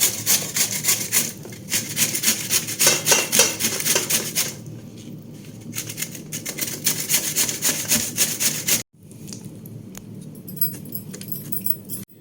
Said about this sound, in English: Now I am grating.